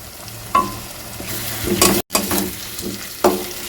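Spicy egg curry with fried potato pieces is stirred in a pan with a spatula, quick scraping strokes and a few metallic clanks over a bright, continuous sizzle, close up with no voices.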